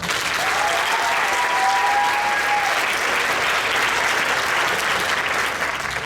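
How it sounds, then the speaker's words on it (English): Sustained applause from a school audience for the trumpet section of a sixth grade band, many hands clapping in a thick, even roar that stays steady from start to finish. "Round of applause for the trumpet."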